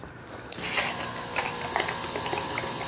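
A homemade fog machine rig with a short hose gurgles and pops like a coffee percolator, irregular bubbling bursts and clicks over a steady hiss, close and moderately loud.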